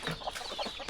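Chickens in a pen cluck in a quick series of short, close calls lasting about a second.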